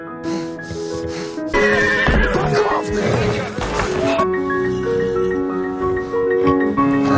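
A mustang whinnies loudly and shrilly, the neigh rising and shaking, with some speech and background noise around it.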